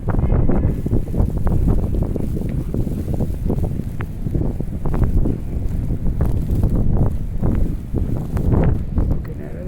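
Strong wind in a downtown snowstorm buffets a phone microphone, making a loud, continuous low rumble with gusty surges that persist throughout.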